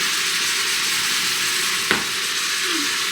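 Food frying in a pan ahead of onions, peppers and rice for stuffed peppers, giving a steady broadband sizzle throughout with a single sharp clink near the middle; no one talks.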